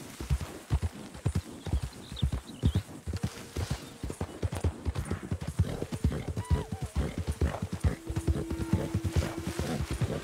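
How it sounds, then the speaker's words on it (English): Horse galloping in the video game Red Dead Redemption, a fast, steady rhythm of hoofbeats throughout, close and loud, with a few brief whinny-like tones and game ambience underneath. "Pretty fast horse."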